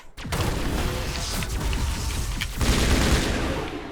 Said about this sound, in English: their guns are really powerful